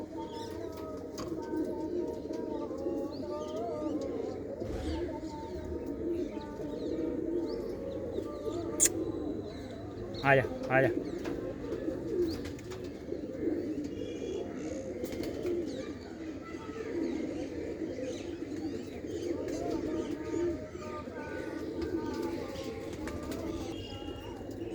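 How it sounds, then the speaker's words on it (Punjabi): Pigeons from a show pair, including a Khatian female, coo in low soft repeated calls throughout, with a brief flutter or chirp midway and someone talking and calling to them over the birds. "ਖਟੀਆਂ ਦੀ ਕਬੂਤਰੀ ਆ"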